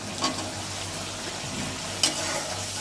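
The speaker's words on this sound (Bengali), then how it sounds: "মশলাগুলো এখন ভালোভাবে কষিয়ে নেব" Spices with salt, turmeric and chili powder, plus tomato, fry in oil in a pan, a steady close sizzle with a couple of sharp stirring scrapes, no talking.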